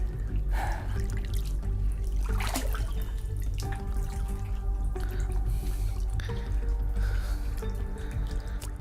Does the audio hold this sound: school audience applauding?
no